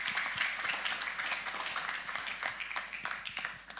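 Audience clapping to welcome a speaker at a talent-show speech event, a steady scatter of many hands at moderate distance, tapering slightly near the end.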